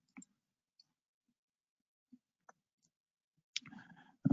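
Computer mouse clicks while working in 3DEXPERIENCE design software: a handful of quiet, isolated clicks spaced irregularly across near-silence, ending in a brief burst of louder noise.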